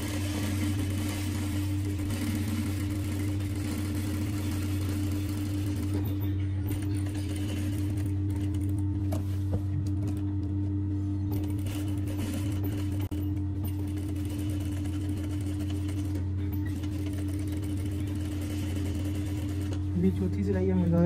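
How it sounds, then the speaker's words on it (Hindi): A sewing machine stitches an Arabic kandura dress with a steady, continuous mechanical hum and rapid needle rhythm throughout, close and loud. "अभी चौथी सिलाई हम लगा रहे हैं"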